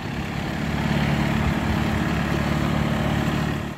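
A John Deere tractor fitted with a front-mounted Sokoke magnetic sweeper, its engine running at a steady low idle throughout, close and continuous, with no one speaking.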